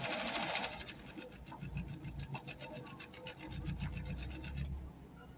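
A Singer 3103 sewing machine runs close by while stitching a buttonhole, its needle ticking in a fast, even rhythm before slowing near the end.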